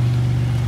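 A Pontiac race car engine holds a steady low drone for a brief moment, close and fairly loud, with no clear rise in pitch.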